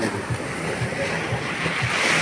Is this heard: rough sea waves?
yes